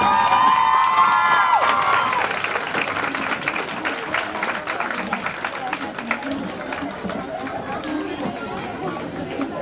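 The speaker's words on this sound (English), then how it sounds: "So once again, extending ovation and clapping for Dr." Loud, sustained applause with cheers and crowd chatter at a nursing conference, honoring Dr. Dipti Shukla, filling the whole stretch with steady clapping and a few shouts.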